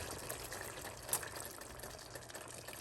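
Water poured into a pot of oxtails as a soft, steady hiss of running liquid, close and fairly quiet, with a slight splash partway through.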